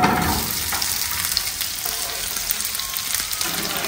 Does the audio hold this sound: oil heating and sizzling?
yes